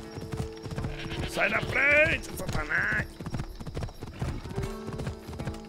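Hooves of the horse Phobos clip-clop at a gallop in Assassin's Creed Odyssey, with a whinny partway through, while someone speaks loudly over the top.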